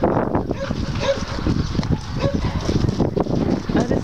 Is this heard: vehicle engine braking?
no